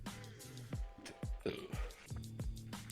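A deep, gurgling burp rolls out in several pulses, close and fairly loud, with no words spoken over it.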